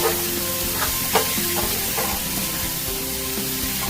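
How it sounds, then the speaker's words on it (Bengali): Spice masala frying in mutton fat for ghugni, a steady close sizzle with occasional stirring scrapes and pops, alone without talk. "মশলাটা খুব ভালো করে কষতে হবে।"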